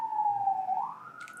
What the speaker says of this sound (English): We'll let the siren go.